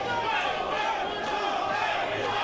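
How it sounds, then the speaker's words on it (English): A large crowd at an MMA fight roars and cheers in a steady, dense wall of voices that stays loud and unbroken throughout, sounding from the arena all around. "Hear the crowd getting behind Thomas, the Polish hammer."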